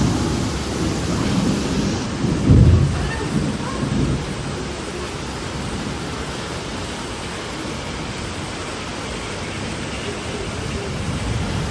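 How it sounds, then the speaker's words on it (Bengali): Heavy rain pours down in a steady, loud roar, with a low rumble of thunder breaking through near the start. "বিশাল বৃষ্টি হচ্ছে"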